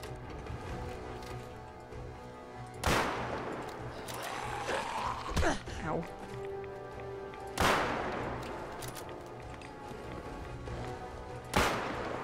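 Sniper rifle in modded Fallout 4 firing three sharp, loud shots a few seconds apart, each one cracking over a quiet game background with faint mechanical clatter between them.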